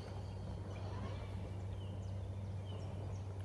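Guinea fowl calling on a farm with rolling pasture, a steady rasping cackle repeating at moderate distance over a constant low hum and outdoor background noise.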